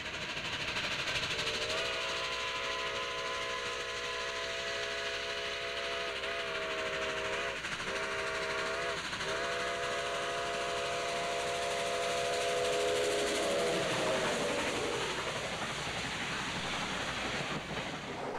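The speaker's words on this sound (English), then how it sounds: "Ohio Central's ex-GTW 6325 was on the point of an excursion train from Coshocton to Columbus." Ex-Grand Trunk Western 6325 steam locomotive hauling an excursion train between Coshocton and Columbus, Ohio, heard from a few cars back, its chime whistle sounding in long blasts over the steady rumble of the moving train.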